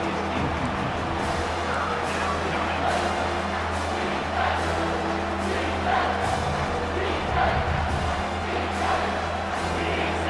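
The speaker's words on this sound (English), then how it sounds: "Decibels rising as the crowd gets behind this defense on 3rd down." A college football stadium crowd at a Clemson Tigers home game against the Arizona Wildcats roars on third down, a loud sustained wall of cheering under a play-by-play commentator's voice.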